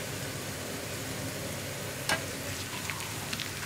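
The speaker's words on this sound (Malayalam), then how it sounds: "നമുക്കിതിലേക്ക് ഇനി രണ്ട് വറ്റൽ മുളക് ചേർത്ത് കൊടുക്കാം." Sliced onion and dried red chilies fry in oil in a pan for a Kerala drumstick-leaf and jackfruit-seed curry, a steady close sizzle with one sharp crackling burst and a few later pops.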